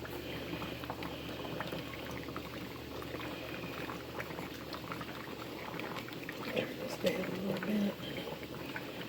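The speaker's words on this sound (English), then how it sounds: "Turn our heat down because we are bubbling over here" Blackberry syrup boils hard in a pot on the stove, a steady close bubbling and spattering that swells near the end as it threatens to boil over, with a person talking over it.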